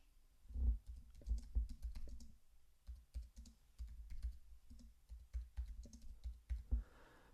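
Typing on a computer keyboard to write a message, with quick irregular bursts of close key clicks and short pauses between them, no voices present.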